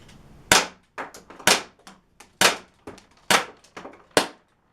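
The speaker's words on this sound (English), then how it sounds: "I'll finish out the mag" A Crosman C41 air pistol fires six sharp, close snapping shots at irregular intervals to empty the magazine, each followed by faint clicks and a quick decay.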